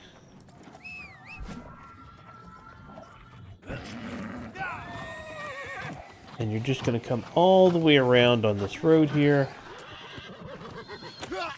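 A horse in the New World Aeternum video game whinnies, with a loud drawn-out neigh near the end, hooves and game sounds underneath while someone narrates over it.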